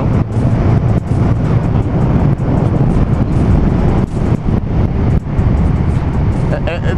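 A car driven well over the speed limit on a road, its engine and road roar loud and constant, buffeted by heavy wind noise throughout.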